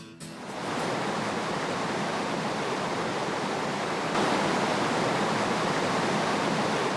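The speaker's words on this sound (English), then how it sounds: "Avalanche Creek funnels through the polished rock of Avalanche Gorge." Avalanche Creek in Glacier National Park funnels through the polished rock of Avalanche Gorge, a loud, steady, broadband rush of churning water that swells slightly partway through, with no voices.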